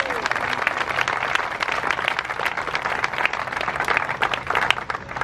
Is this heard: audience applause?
yes